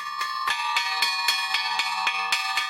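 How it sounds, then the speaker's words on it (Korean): A farm bell rung to call pigs in for feeding on a Pantanal farm in South America, struck in a steady series of bright, ringing clangs, about eight strokes, loud and close with no voices. "종소리가 울려 퍼지자 놀라운 광경이 펼쳐집니다."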